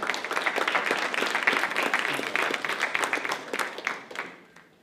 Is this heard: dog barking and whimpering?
no